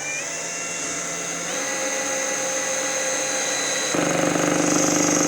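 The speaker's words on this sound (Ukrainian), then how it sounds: "Попробуємо, е, чи буде тут спрацьовувати тріскачка." An ELTOS cordless screwdriver runs on a small furniture screw at its lowest clutch setting: a close, steady motor whir that steps up in pitch and then turns into a rougher, buzzing rattle as the clutch slips.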